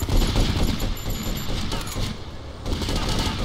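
Machine gun firing in the video game GTA Vice City, a dense, continuous rattle of rapid shots at close range with mechanical clatter.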